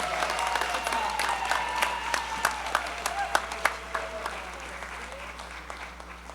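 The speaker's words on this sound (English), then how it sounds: "One more big round of applause for our class of 2025 DKM first-timers." Applause from a conference audience at the ACB Conference & Convention general session, a moderate wash of clapping with distinct individual claps popping out near the front, steady for several seconds before thinning toward the end.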